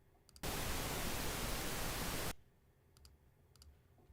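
Generated pink noise plays as a loud, steady hiss for about two seconds, starting and stopping abruptly, with quiet room tone and faint clicks on either side.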